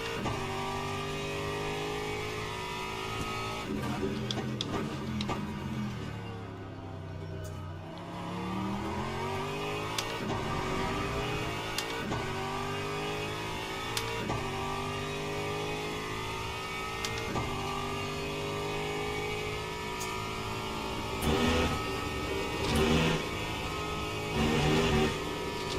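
A GT3 Aston Martin race car lapping Spa in a racing game, its engine climbing and dropping through repeated gear changes with a strong, steady, close drone and no talk.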